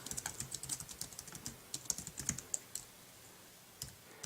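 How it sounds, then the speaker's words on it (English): Fingers type on an iPad keyboard dock in a quick run of soft, close key clicks that slows toward the end, with a few last taps after a short pause and no talking. "Let's type something in."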